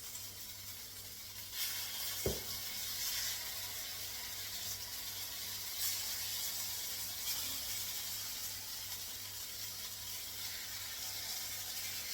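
Oil heats in a paddu pan for frying paddu batter, giving a soft steady sizzle and hiss with one brief clink near the start, and no voices.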